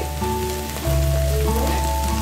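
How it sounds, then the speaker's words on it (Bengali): Ghee sizzles in carrot halwa as it is stirred, a dense close frying hiss that gets louder partway through, with a steady low hum beneath it. "এক চামচ পরিমাণ ঘি এর ভেতরে দিয়ে দেব"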